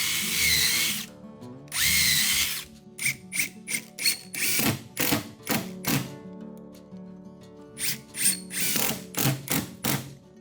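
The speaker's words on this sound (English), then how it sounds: "Next, I attach the kamachi with glue and screws." A power drill drives screws through a kamachi into a plywood subfloor, with long whirring runs and then a rapid series of short, close bursts that stop and restart.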